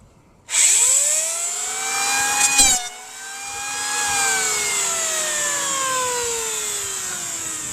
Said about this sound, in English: I'm going to take my planer here. I'm going to try and clean this up.